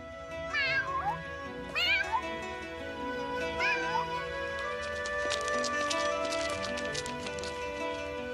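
Several high, sliding cartoon kitten meows from a small Siamese cat in an animated children's series, three clear calls in the first half over a busy musical background.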